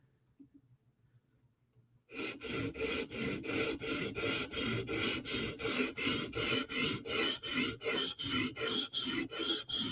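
A Chris Reeve Umnumzaan knife blade is scrubbed back and forth across a grit sharpening stone in about eighteen quick, even rasping strokes, close and loud, after a couple of seconds of near silence.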